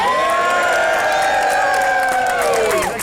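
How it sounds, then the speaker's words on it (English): A crowd at a Hawaiian luau in Maui claps and cheers loudly, a dense roar of applause with whoops and shouting voices rising above it for a few seconds. "Can I get a big round of applause for my man Jim?"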